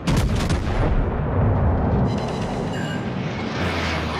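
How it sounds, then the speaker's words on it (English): Heavy warship naval guns boom in World of Warships, a dense, loud barrage of deep blasts rolling continuously with no pauses, heard alone without voices. "Guns are ready, sir. Fire!"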